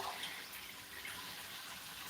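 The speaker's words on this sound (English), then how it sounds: "I'm gonna add a bit of water" Water is poured into a cooking pan holding an egg dish, a faint, steady splashing hiss lasting about two seconds.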